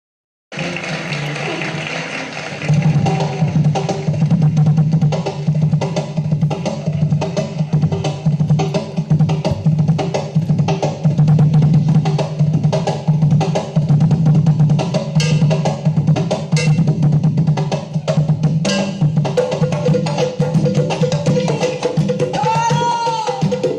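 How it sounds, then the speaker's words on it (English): Afro-Peruvian Festejo music playing back as a recording, with dense percussion driving a steady syncopated groove under melodic parts and voices, loud and continuous throughout after a quieter start. "So that's the sound of Festejo."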